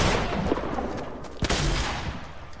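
AK rifle fire in a shooter video game, a few sharp gunshot cracks, one prominent burst near the middle, over a dense noisy game background.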